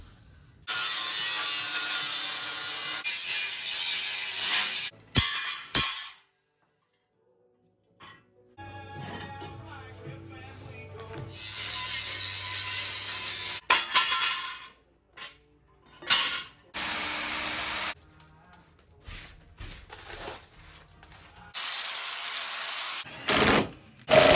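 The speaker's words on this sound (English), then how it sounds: "I got both of the frame tie-in brackets on, bolted in." Wrenches and hand tools work on bolts fastening frame tie-in brackets to a Toyota Tacoma during a high-clearance rear bumper build, giving bursts of ratcheting and metallic clinks separated by short silent gaps.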